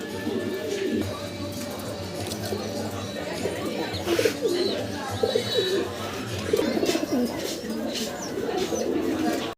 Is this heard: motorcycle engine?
no